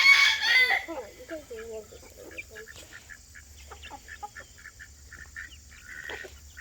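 Chickens, including young chicks, cluck and peep in a chicken tractor, a loud burst of calls at first, then scattered short clucks over a low background rumble.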